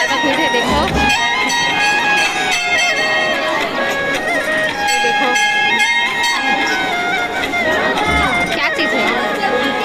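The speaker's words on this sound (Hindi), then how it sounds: "बहुत ज़्यादा भीड़ है।" A large, dense crowd of worshippers at the Maa Bamleshwari temple, with loud, continuous chatter and bustle and a ringing tone, heard close throughout while a person speaks over it.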